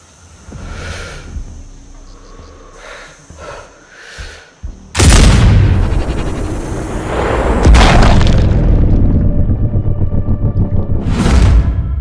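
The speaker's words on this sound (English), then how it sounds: "I heard an explosion." A loud explosion bursts from the Sniper Ghost Warrior Contracts 2 video game mid-clip, preceded by quieter game ambience and a second heavy blast soon after, with booming rumble and debris carrying to the end.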